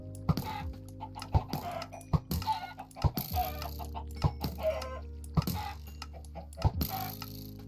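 Chickens cluck in a Minecraft farm, short clipped clucks and pops coming in an uneven rhythm over a low steady hum, close and fairly loud, with no talking.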